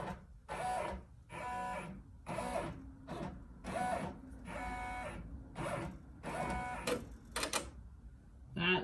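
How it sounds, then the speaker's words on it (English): An embroidery machine stitching a logo on the left chest of a golf shirt, running in fast rhythmic bursts of mechanical rattling and whirring separated by short pauses, close and steady. "So I'm going to go ahead and hit lock and let it embroider."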